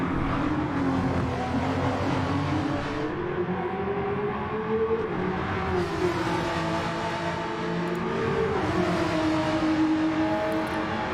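Porsche Cup race cars at Bathurst roar side by side up Mountain Straight, engines loud and sustained with wavering, rising pitch as they accelerate and shift, heard close and without talk.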